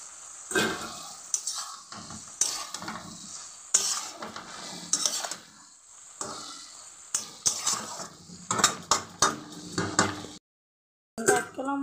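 Fish curry with pumpkin and green chili cooks in a pot, with clattering utensils, spoon scrapes and metallic knocks against the pot over a faint sizzle, loud and close, followed by a short silence and then more clatter.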